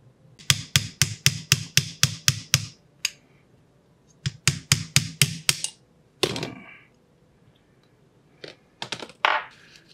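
Hammering out the piston pin of a Stihl FS80 string trimmer during a top-end rebuild, with rapid bursts of sharp metallic taps in quick runs, close and loud, separated by short pauses.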